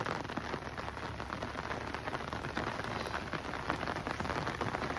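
Heavy rain pours steadily during a downpour on a village roadside, a dense even hiss of drops striking the ground with no voices.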